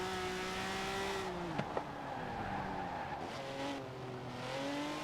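A vintage Mercedes in Forza Horizon 4 drifts with long, steady tire squeal over a smooth engine drone, one brief sharp knock partway through, and no voices.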